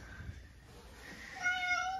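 Cats at a veterinary visit give a soft meow near the middle, then a louder, clearer drawn-out meow close by toward the end, over faint room noise.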